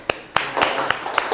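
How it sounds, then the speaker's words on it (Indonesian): Students in a classroom give a brief, scattered round of applause: about six separate sharp claps spread unevenly over a moment, with a voice talking beneath them. "Kasih aplaus dulu, aplaus."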